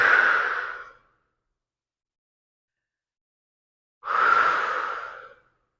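Two long, slow exhalations through an open mouth during a yoga exercise, each about a second of breathy rush, separated by a few seconds of silence; close and fairly soft, no talking.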